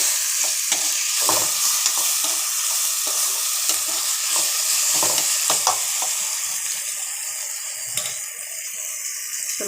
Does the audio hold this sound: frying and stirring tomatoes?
yes